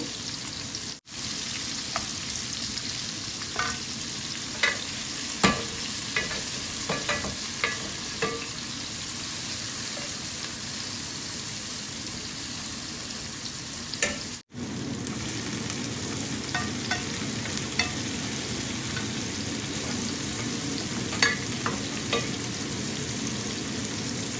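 Whole spices temper in hot oil across three pots cooking at once, a continuous crackling sizzle with scattered stirring clicks, close and steady, with no talking.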